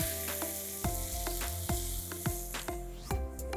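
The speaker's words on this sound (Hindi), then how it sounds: "और फिर हम डालेंगे इसमें जो प्रॉन्स हमने मैरिनेट किए हुए हैं। इसे भी हम अच्छे से मिक्स कर लेते हैं।" Marinated prawns sizzle and fry in a hot pan while a spoon stirs them, with steady loud frying hiss and regular scraping strokes about every second, and no talk.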